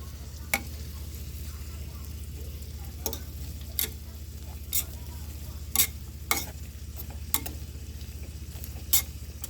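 Food being stirred and mixed in a sizzling pan, a steady close-up frying hiss broken by scattered clinks and scrapes of the utensil against the pan.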